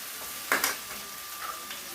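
Ivy gourd pieces drop into hot oil with a brief sharp sizzling burst, then a softer steady frying hiss continues faintly for a couple of seconds.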